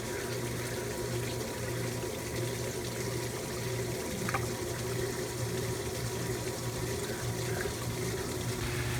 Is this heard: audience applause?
no